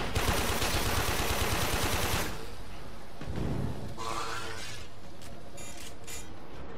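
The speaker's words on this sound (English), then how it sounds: "Someone's still shooting at me." Sustained rapid automatic gunfire from the video game Warframe, loud and close for about two seconds, then scattered shots, a shattering crack and fainter game effects.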